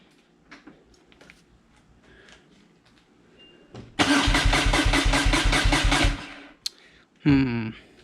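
A motorcycle fitted with a newly installed Rapid Bike tuner cranks loudly and rhythmically for about two seconds without catching, then goes quiet, followed by a brief second cranking burst, close to the listener.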